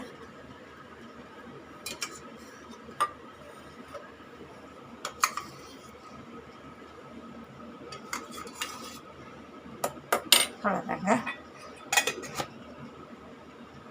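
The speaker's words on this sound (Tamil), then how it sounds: "இதை நம்ம நல்லா இப்படி நல்லா கொஞ்சம் அடிச்சுக்கங்க தயிரை பீட் பண்ணிவிடுங்க" Curd (yogurt) being whisked in a bowl for brinjal pachadi: scattered light clinks and scraping taps of a utensil against the bowl, coming in irregular bursts over a quiet kitchen background.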